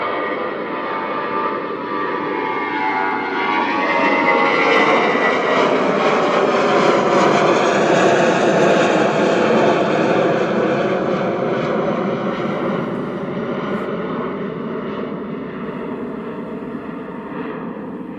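Aircraft engines at Christchurch Airport, a loud, steady roar that swells over several seconds and then eases off slowly, heard alone with no talking.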